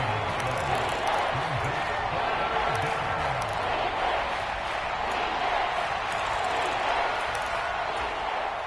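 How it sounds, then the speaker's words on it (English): Stadium crowd noise in the Madden football video game, a steady, loud roar of many voices that fills the whole stretch without pause, with a commentator talking over it. "this crowd is making an impact right now."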